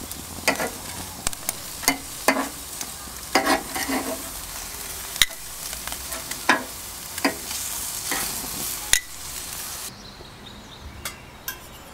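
Prawns sizzle on a barbecue in a soft, steady fry, broken by frequent sharp clinks and scrapes as they are turned, fairly faint and without speech.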